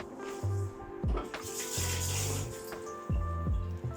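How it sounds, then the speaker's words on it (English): Garlic rinsed under a running kitchen tap, with the water splashing in bursts that start and stop several times, fairly close and steady between the pauses. "I just rinse my garlic."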